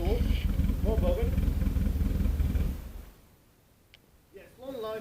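A Dolomite car's engine rumbles loudly through a full stainless steel twin-port exhaust under excited talk, then falls away to near quiet before voices return.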